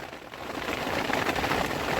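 Steady rain falls outdoors at a work site in West Bengal, a dense, even hiss of drops on surfaces that builds slightly in the first half second and then holds constant, with no voices.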